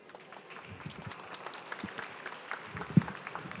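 An audience applauding Brian Zapata and the Seminole Stomp Dancers at a live show, a moderate patter of clapping that is fairly distant and steady, with one sharper clap near the end.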